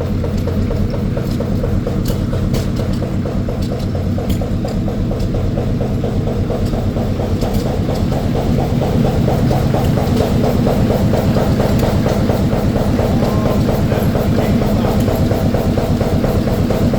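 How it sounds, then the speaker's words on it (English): Big steam engine driving a sawmill wheel at a show day, a loud, steady low chugging rumble with rapid regular pulsing that continues unbroken throughout. "Big steam engine, they're on sawmill wheel."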